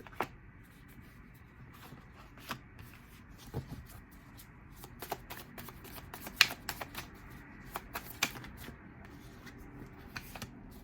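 Tarot cards are shuffled up close in a quiet room, giving soft, irregular riffling and light tapping clicks, faint and scattered throughout with no talk.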